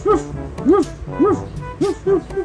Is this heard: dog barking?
yes